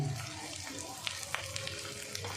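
Ginger-garlic paste with turmeric and salt fries in a pan, a steady soft sizzle with scattered small clicks of stirring, close and moderately loud throughout.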